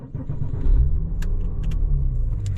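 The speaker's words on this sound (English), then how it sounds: "let's go ahead and fire up this flat six." A Porsche 911 Turbo (996) flat-six idles with a deep, steady rumble up close, joined by a few faint metallic clicks.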